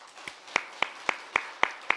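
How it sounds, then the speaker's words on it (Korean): Slow, evenly spaced claps, about seven sharp hand strikes roughly a quarter second apart, close and fairly quiet, from a church congregation offering praise during a New Year special dawn prayer service. "우리 하나님께 영광의 박수 한번 먼저 돌리겠습니다"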